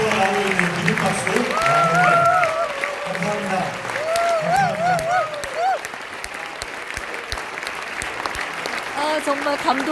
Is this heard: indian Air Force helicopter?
no